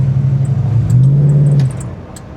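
A Plymouth Barracuda convertible with a single-barrel carburetor engine drives along, its low, steady engine drone swelling slightly midway, then easing off and fading near the end.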